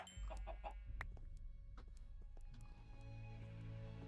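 Chickens cluck repeatedly in the blocky farm world of modded Minecraft (StoneBlock 3), a run of short, fairly close calls over a steady low background hum, with no talk.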